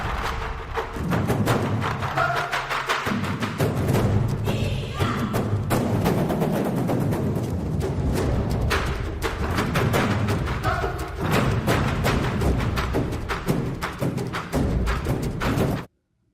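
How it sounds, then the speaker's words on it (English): Epic Taiko ensemble drum sample library playing a dense, continuous barrage of big booming drum hits and sharp strikes, loud and full throughout before cutting off abruptly at the end. "Epic Taiko ensemble, which sounds like this."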